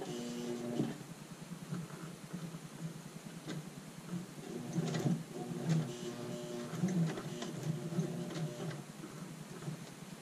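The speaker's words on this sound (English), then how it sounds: "Now I'm going to go along the pocket top edge with an edge stitch." A sewing machine runs an edge stitch along the top edge of an apron pocket, giving a steady, fast mechanical whir and ticking that rises and falls slightly across the run, moderately close and with no voices.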